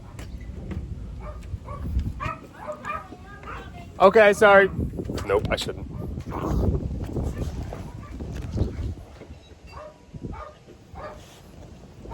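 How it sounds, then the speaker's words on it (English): Dogs bark from inside a house, muffled, scattered yips and barks with one louder burst, while a person outside the door speaks briefly. "I hear some dogs."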